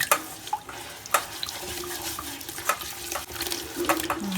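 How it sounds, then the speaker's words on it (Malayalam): Chicken being stirred in a cooking pot for biryani, with repeated scraping and wet clatter of a spoon against the pot over a steady sizzle, close and busy. "നന്നായിട്ട് ഇങ്ങോട്ട് ഇളക്കിയ"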